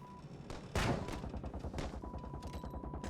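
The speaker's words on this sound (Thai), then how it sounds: "เดี๋ยวยิงให้นะเพื่อน" Gunfire in the zombie video game Pandemic Express, a burst of rapid shots starting with a loud blast and continuing in quick repeated cracks over a steady game background.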